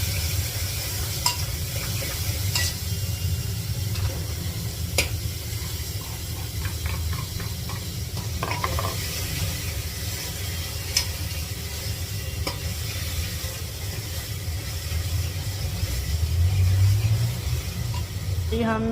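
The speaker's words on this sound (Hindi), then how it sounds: "तो अब हम इसको तड़का लगाते हैं। तेल अच्छी तरह गर्म भी हो गया है।" Spices crackle and sizzle as they temper in hot oil, a steady hiss punctuated by occasional sharp pops and stirring clatter.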